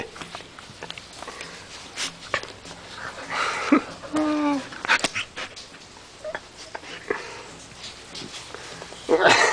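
A dog whimpers and whines in short strained bursts while trying to get at a small ball, with a person talking over it and sniffing and shuffling noises close by.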